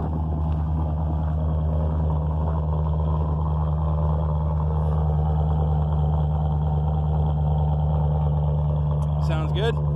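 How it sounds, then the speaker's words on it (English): A deep, steady exhaust rumble from an idling 2013 GMC Sierra 1500 pickup, heard from behind the truck, loud and continuous throughout, with a brief voice near the end. "They have a little bit of a listen to the rumble."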